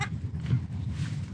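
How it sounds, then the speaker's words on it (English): Newborn baby goats on a farm bleat in a quick wavering cry, close and fairly loud over a murmur of background noise. "Pretty cute little goats, huh?"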